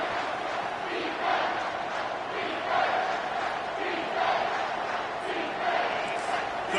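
Roaring football stadium crowd during the final two minutes of a Michigan versus Ohio State game, a dense continuous wall of cheering and yelling that swells in waves, loud and sustained throughout.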